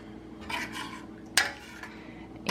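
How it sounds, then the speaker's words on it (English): A spoon scrapes and clinks against a pot while chicken pot pie filling is stirred to incorporate the liquid, with soft repeated stirring strokes and one sharper metallic knock, close and moderately quiet. "we're gonna stir this up again, incorporating all the liquid together"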